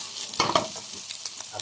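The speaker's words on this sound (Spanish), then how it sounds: "echamos el escabeche y que se vaya friendo" Onions and escabeche frying in a pan with a Peruvian sautéed chicken gizzard dish, crackling sizzle with a few louder bursts as ingredients go in, then quieter popping, close and with no talk.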